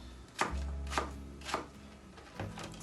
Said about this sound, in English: I just literally slice around the core like this, and then I chop those bits